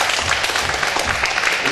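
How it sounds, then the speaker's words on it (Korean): A church congregation at an evening revival service breaks into loud, dense applause, steady and close, with many hands clapping together throughout. "박수 한번 해주셔요."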